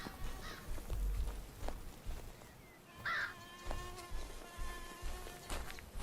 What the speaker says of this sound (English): those darn mosquitoes would feast in earnest